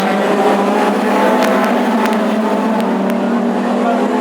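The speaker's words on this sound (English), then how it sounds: "Well, there he is on the home straight, hotly pursued by Lord Foxlow himself." Classic hot rod race cars roar around the Northampton circuit in a continuous, loud engine drone with a steady pitch, close and unbroken throughout.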